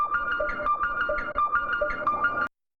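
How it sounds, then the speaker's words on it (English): A looping siren sample in a drum and bass track repeats over and over with slight panning and reverb, a steady warbling tone cycling about every half second for two and a half seconds, then cutting off abruptly. "My really favorite part is the siren loop."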